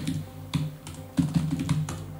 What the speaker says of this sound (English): No errors typing so far.